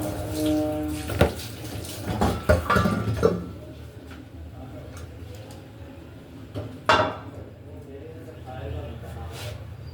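Tap water runs steadily into a kitchen sink piled with dishes, a constant rushing hiss beneath a woman's nearby speech, with a few sharp clinks of utensils early on.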